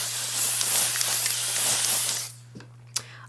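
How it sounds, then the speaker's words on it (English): Spray foundation mists onto a face in a loud, continuous close hiss lasting about two seconds, then cuts off, leaving a low steady hum and a couple of small taps. "We're literally gonna spray paint our face."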